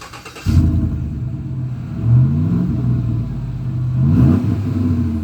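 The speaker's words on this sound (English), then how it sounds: "Now it says here you have a MagnaFlow dual exhaust." A deep, throaty engine rumble from a 2015 Chevrolet Silverado 5.3L pickup with MagnaFlow dual exhaust starts up abruptly, then swells in two revs before settling back to a steady idle, loud and close.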